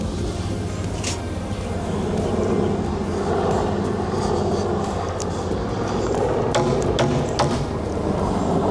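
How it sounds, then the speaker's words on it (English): A low, continuous rumble of a military helicopter flying over a backyard near Redstone Arsenal, a broad droning roar that holds steady, with a few faint knocks nearby. "That would be a military helicopter."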